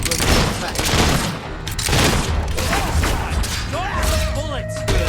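Gunfire in the video game Fable 3, a dense loud barrage of shots and thuds amid battle noise, with voices shouting over it.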